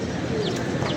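Pigeons, thirty of them set loose to fly, give brief soft coos and calls close by over a constant background rustle.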